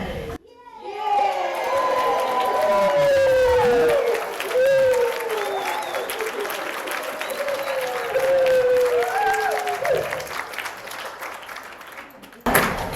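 A crowd claps loudly for several seconds while children cheer and shout over the applause, which fades out near the end.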